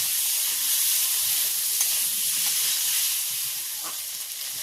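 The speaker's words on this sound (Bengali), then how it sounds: "যে মাংসটা মাখিয়ে রেখেছিলাম ওটা কোড়ার মধ্যে দিয়ে দিচ্ছি মাংসটা ও নাড়াচাড়া করে ভালো করে কষে নেব" Marinated meat sizzles loudly in hot oil in a wok for mixed fried rice, a dense steady hiss with a few scraping stirs, no voices.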